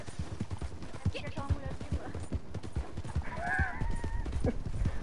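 A horse galloping in the video game Red Dead Redemption, rapid rhythmic hoofbeats close and loud, with a whinny partway through and people talking over it.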